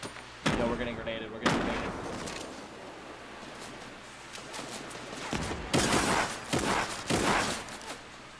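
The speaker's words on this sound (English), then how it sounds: "Yo, we're getting grenaded," Grenade explosions and gunfire in the video game Fortnite come as loud, booming blasts and rattling bursts, one early, one near the second mark and a cluster toward the end, with quieter stretches between.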